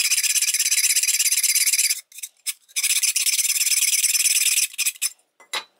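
Corners of a Veritas scraper plane iron are eased with rapid back-and-forth rasping strokes, a bright close scraping in two long runs and then a few short final passes.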